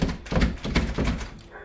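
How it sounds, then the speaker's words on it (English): A home security door rattles and thunks as it is shaken, several loud rapid knocks in an uneven rhythm, close by and alone. "Once they start shaking this door and trying to get in"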